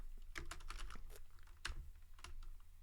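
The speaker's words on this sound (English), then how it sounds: "I have Ducky Shine 5 keyboard." Close, quiet typing on a Ducky Shine 5 mechanical keyboard with Cherry black switches, with irregular clusters of clacky keystrokes and short pauses between them.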